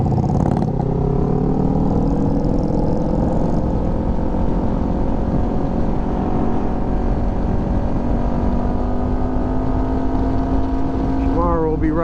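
A 2018 KRT Kawasaki Ninja 400 ABS motorcycle rides the Tail of the Dragon, its engine droning steadily and loudly with rising and falling pitch as it shifts, mixed with constant wind rush.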